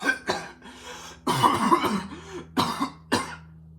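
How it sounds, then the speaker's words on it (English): Several rough, close coughs come in bursts, one longer fit in the middle and a couple of sharp single coughs near the end. "this guy left the cough in and then didn't bother to remove it"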